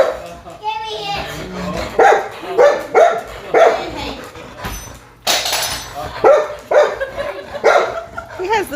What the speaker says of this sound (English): He has the most obnoxious bark.